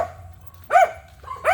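Dogs barking outdoors in a rural hillside spot where moringa is being picked, two loud close barks about a second apart over a quiet, low ambient hum.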